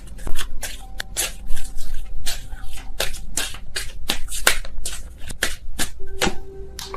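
Tarot cards shuffled by hand in a steady run of crisp riffles and flicks, close and fairly loud, with brief pauses between bursts and no talking.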